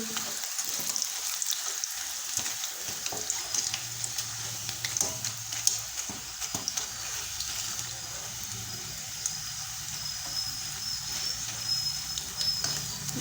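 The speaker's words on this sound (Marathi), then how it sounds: "मस्तपैकी असं तळून घ्यायचं क्रिस्पी होईपर्यंत एकदम" Banana chips deep-frying in oil until crisp, a bright, constant bubbling hiss with occasional crackles and faint utensil movements, near and steady throughout with no speech.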